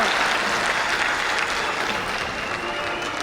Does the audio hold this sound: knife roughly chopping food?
no